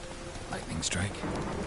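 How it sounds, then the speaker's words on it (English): A lightning strike and rumbling thunder from a storm in the video game The Witcher 3, heard as a sharp crack near the midpoint over a steady bed of rain, fairly faint overall. "Lightning strike."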